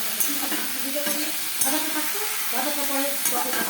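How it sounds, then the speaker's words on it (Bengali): Bottle gourd peel and potato fry in a pan with a steady sizzle, stirred now and then with sharp utensil scrapes over about four seconds, close and clear, no talking. "আমি ভাজাটা ভাজছি"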